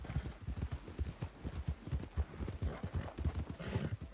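A horse's hooves clip-clop steadily at a brisk riding pace in a video game, a continuous rhythmic stream of close, muffled thuds with no talk over them.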